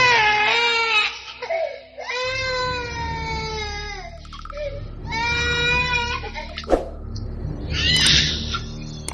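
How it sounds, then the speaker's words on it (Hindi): Wailing, sobbing cries of a baby or child rise and fall in several long bursts over a low droning background, close and fairly loud, as an effect in a Hindi horror audio story. "तभी मेरे कमरे से किसी के रोने की आवाज आई।"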